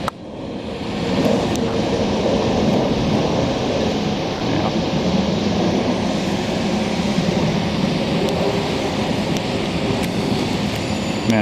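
An airplane passes overhead outdoors near commuter train tracks, a broad, steady roar that swells and holds loud for several seconds, with no talking.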